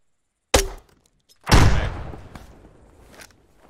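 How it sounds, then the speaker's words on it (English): An M203 underbarrel grenade launcher fires in ArmA 3: a sharp, close thump followed a second later by a loud, booming blast whose rumble trails off over the next two seconds. "I'm shooting a 203."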